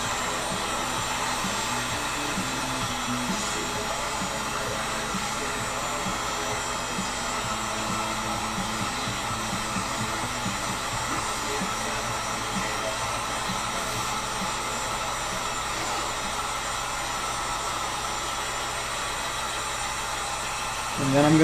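Loud heat gun blowing on a take-down Sipahi bow limb joint, a steady whirring rush of air that continues unbroken and ends in a brief louder bump.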